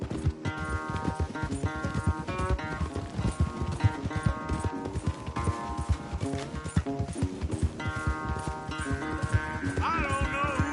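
A horse gallops hard in a race in the video game Red Dead Redemption 2, its rapid, rhythmic hoofbeats pounding continuously and loud beneath a layer of game music.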